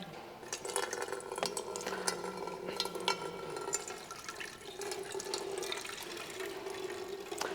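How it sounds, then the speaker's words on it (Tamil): Water is poured over the roller of a sugarcane juicer machine to clean it, a continuous faint splashing and trickling with scattered small clanks and knocks of metal. "நீங்கள் தண்ணி ஊற்றிக்கலாம்."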